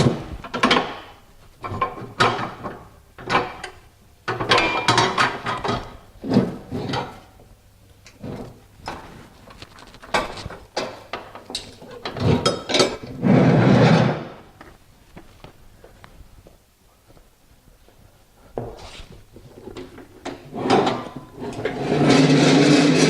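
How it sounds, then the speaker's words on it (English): Front sway bar being removed from a Husqvarna TS342 ride-on mower after the split pins are pulled, heard as a series of close metallic clunks, knocks and scrapes with brief rattling bursts and quiet pauses in between. "We'll just remove the front sway bar"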